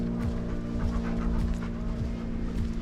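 An anxious rescue dog pants steadily on a coastal trail, quick rhythmic breaths close by over a low constant rumble, with no talking.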